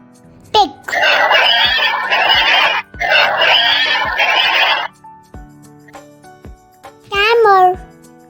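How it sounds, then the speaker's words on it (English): A pig vocalising in two long, loud grunting squeals with a short break between them, followed by a pause and a brief higher cry. "Pig."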